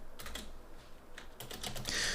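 Quick bursts of key presses on a computer keyboard, close and crisp, clustered in short runs with brief pauses between.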